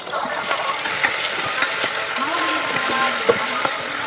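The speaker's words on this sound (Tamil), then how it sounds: "வெங்காயம் தக்காளி பழம் நல்லா மசிக்கட்டும்" Onions and tomatoes fry in a pan with a steady close sizzle, while a spoon scrapes and stirs in quick irregular knocks on top.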